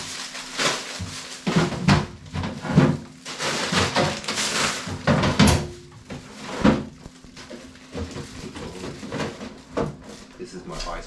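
Freezer drawers in a home kitchen slide and thump open and shut in a string of irregular knocks and rattles while someone clears out the freezer, with a person talking between the bumps.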